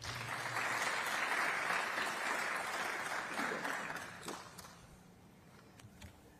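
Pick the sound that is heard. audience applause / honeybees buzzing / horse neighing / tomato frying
audience applause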